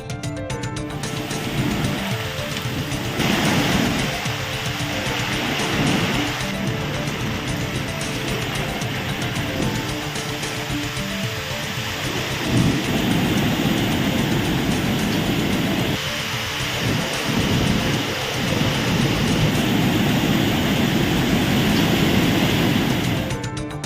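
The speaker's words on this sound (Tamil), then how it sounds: "தொடர் கனமழை காரணமாக பெரியார் அருவியில் தண்ணீர் ஆர்ப்பரித்து கொட்டுகிறது" Periyar waterfall in the Kalvarayan hills roars after continuous heavy rain, a loud, dense, unbroken rush of gushing water with slight surges over its length.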